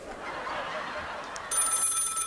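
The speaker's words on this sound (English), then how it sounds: "Oh rats, the phone is ringing." Telephone starts ringing partway through with a bright electronic trill that cuts in suddenly and continues, after a quieter stretch of hiss.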